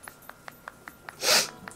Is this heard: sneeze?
yes